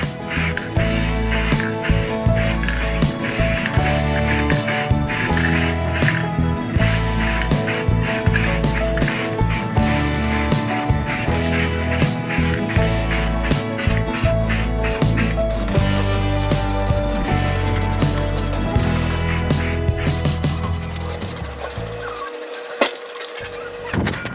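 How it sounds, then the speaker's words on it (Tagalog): Light first-coat spray paint hisses onto a mountain bike frame in repeated short bursts with brief pauses between them, close and steady, with no talking. "So sa first patong natin, so mga light lang siya na spray katulad nito."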